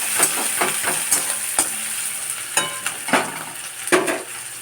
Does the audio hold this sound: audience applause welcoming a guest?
no